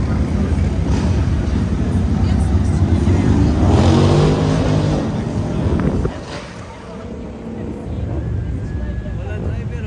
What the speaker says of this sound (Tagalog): Walang driver na ano, sasakyan.